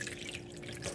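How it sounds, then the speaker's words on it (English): Water trickling and dripping from the drainage holes of a freshly watered Hedera helix ivy pot, a soft continuous patter with a faint steady hum behind it. "starts to drain from all 4 or 5 of the drainage holes"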